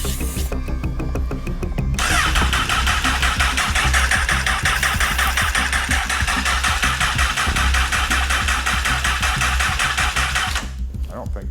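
A 2008 Honda CBR1000RR streetfighter with a freshly rebuilt engine cranks steadily on the starter without firing, a loud, continuous whirring churn lasting several seconds up close.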